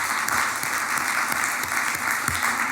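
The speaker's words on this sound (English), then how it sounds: "So let's give them a round of applause." An audience at a panel event applauds for the event team, a dense, steady burst of clapping from many hands that holds throughout, with a faint voice or two underneath.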